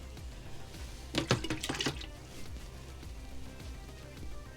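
Tap water runs and splashes through a container being rinsed, a brief burst of splashing and gurgling up close, then a quieter trickle over low background noise.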